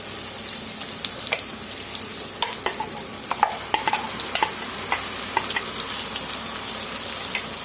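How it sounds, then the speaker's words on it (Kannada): Peanut chutney sizzling in a tempering pan on a kitchen stove: a continuous bright hiss with scattered pops and stirring scrapes, close and moderately loud, with no talking. "ಎಷ್ಟು ಬೇಕೋ ಅಷ್ಟು ಈ ಥರ ಒಗ್ಗರಣೆ ಹಾಕ್ಕೊಬೇಕು"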